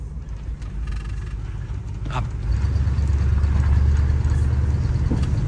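An El Camino's engine idles steadily nearby after a fix for rust in its fuel system, a low throbbing hum that grows louder and rougher partway through as it revs slightly, with no voices.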